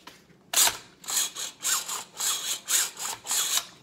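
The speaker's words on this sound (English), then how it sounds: "It sounds like the buffer tube spring is really dry when you rack it." A dry rifle buffer tube spring scrapes and twangs as the action is racked repeatedly: one sharp metallic clack, then a series of rasping, grinding strokes at close range.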